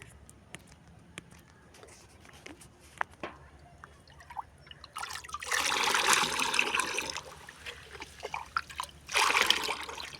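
Liquid fertilizer is mixed and diluted in water, starting with faint small clinks and drips, then two loud bursts of pouring, sloshing water close by.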